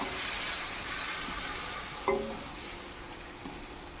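Vinegar mixture for dried fish pickle bubbles and sizzles steadily in a pan, fairly quiet and close, with a brief knock of a utensil partway through.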